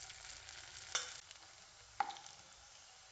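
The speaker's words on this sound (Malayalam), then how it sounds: "അപ്പം ഇന്ന് നമ്മളത് ഫ്രൈ ആക്കാൻ പോവുകയാണ്." Masala-coated chicken frying in a pan in a home kitchen, cooked to a red chicken-65 colour: a soft, steady sizzle with two sharp clinks of a utensil about a second apart, no voices.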